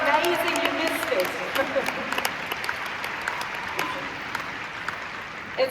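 Audience applause at an Empowerment Day sales convention event, a steady wash of many hands clapping throughout, moderately loud and sustained, with some voices mixed in underneath.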